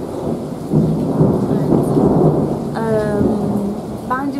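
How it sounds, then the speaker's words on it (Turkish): Rain pours steadily during a storm, and a deep, rolling rumble of thunder from a nearby lightning strike sounds close by and swells through the downpour. "Uf, çok fena bir yıldırım düştü. Birazdan sesi gelir."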